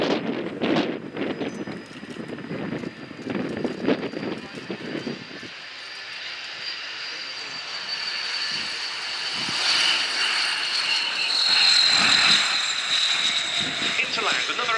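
A Breguet Atlantique 2 maritime patrol aircraft with Tyne turboprop engines performs a flying display at an air show, its engine drone swelling from moderate to loud as it passes, with wind buffeting and a commentator talking over the first part.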